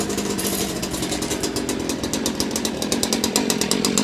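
A cold Stihl or Echo small-engine stick tool runs on choke after pull-starting, a loud, buzzy, rapidly pulsing two-stroke rattle that holds steady close by.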